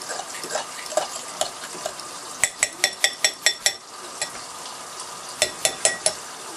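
A whisk or fork clinks rhythmically against a bowl while beating a chicken Alfredo sauce base, bright metallic taps in quick runs and pauses, close and clear with no talking.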